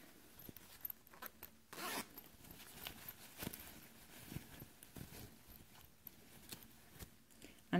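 A zipper sewn onto a fabric bag is handled, giving scattered short rasps and one longer zip pull, close and fairly quiet, among soft rustles of cloth.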